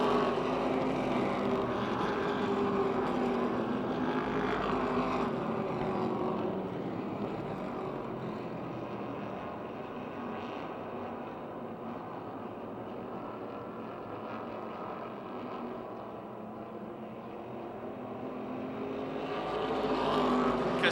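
Stock race cars roaring around the Motordrome Speedway oval during a night race, a continuous dense engine drone that swells and fades slightly as cars circle, heard from the grandstand without talk.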